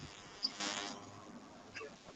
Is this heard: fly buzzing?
yes